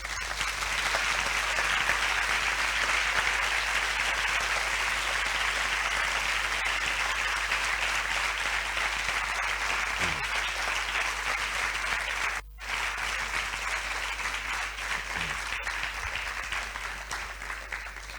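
A lecture audience applauds at the end of a talk, a dense, steady wash of many hands clapping that holds evenly for a long stretch without voices.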